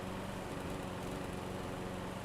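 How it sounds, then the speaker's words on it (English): Quiet, steady engine drone with a rough, chugging low rumble, like a small lawn tractor idling, running continuously, from the video game Farm Expert 2017. "it sounds just like a lawn tractor"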